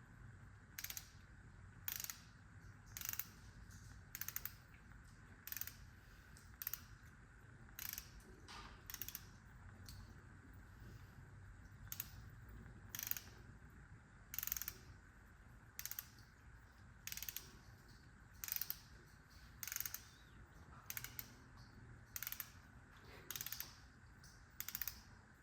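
A socket ratchet tightens camshaft bolts with repeated short clicking bursts in a regular rhythm, close and quiet over a faint background hum.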